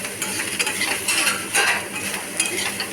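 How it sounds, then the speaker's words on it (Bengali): Fish roe frying with ridge gourd and eggplant sizzles steadily in a pan while a metal spatula scrapes and clinks against it in uneven strokes, close and fairly loud. "সুন্দর করে মাছের ডিমের সাথে ঝিঙে আর বেগুনকে ভেজে নিচ্ছি"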